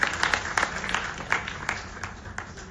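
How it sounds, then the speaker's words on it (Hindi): Audience applause welcomes a guest at a classical music performance in Punjab. Scattered, fairly faint individual claps ring out sparsely rather than as a full ovation. "जोरदार तालियों से इनका स्वागत कीजिए।"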